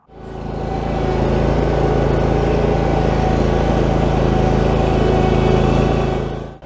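A zero-turn mower on its current tyres and wheels drives past close by, its engine running at a loud, steady pitch the whole time.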